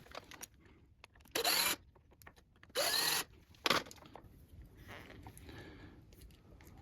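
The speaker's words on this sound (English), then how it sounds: "So I'm going to take these couple of screws out here." Power screwdriver backing screws out of a KLX 140 dirt bike's throttle assembly: three short, loud whirring bursts of a couple of tenths of a second each, close up, with light handling clatter between them.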